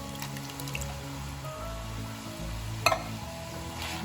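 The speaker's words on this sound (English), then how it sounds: "And now we're going to add our stewed tomatoes in there. So just pour the 2 cans in." Two cans of stewed tomatoes are poured into a pot of turkey chili soup, giving soft wet plops and squishy glugs with a few drips and one sharper splash near the end, close up and moderately quiet.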